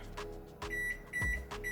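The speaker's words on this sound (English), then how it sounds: "Let's microwave." A microwave oven runs while cooking a mug cake, a steady hum under several short electronic beeps and clunks at close range, with no talking.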